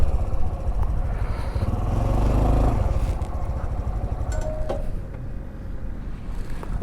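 A Honda CT125 motorcycle engine hums steadily as the bike pulls off onto grass and gravel, the note easing down toward the end with crunching and clatter underneath, close and fairly loud.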